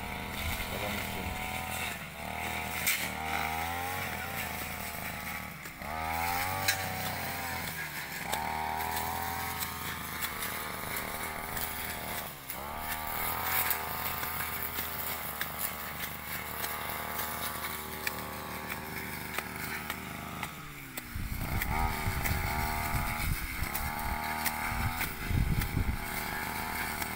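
A small motorized machine clears farmland being prepared for porang cultivation in Sindangwangi, its engine buzzing steadily and close by, with repeated revving surges and dips and a rougher, heavier load near the end.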